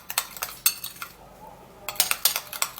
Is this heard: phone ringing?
no